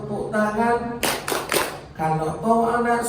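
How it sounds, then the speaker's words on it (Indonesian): Children clap their hands in unison during a call-and-response game at an orphans' charity gathering, a sharp burst of claps between stretches of group singing and chanting. "Kalau kau anak soleh, tepuk tangan."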